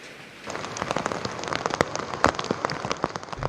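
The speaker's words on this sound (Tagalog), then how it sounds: "Mel, Emil, Vicky, may mga pag-ulanang nararanasan dito sa Hinatuan, Surigao del Sur habang papalapit ang bagyong Basyang." Rain in Hinatuan, Surigao del Sur ahead of typhoon Basyang, starting suddenly and pattering on a surface with irregular close drips and splashes over a steady shower, fairly loud and without voices.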